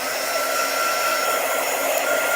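A hair dryer dries chalk paste on a Chalk Couture craft piece, giving a steady, loud, close-up whirring blow that holds unchanged throughout with no talking.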